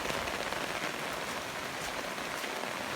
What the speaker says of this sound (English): So I've never known rain like this here, never.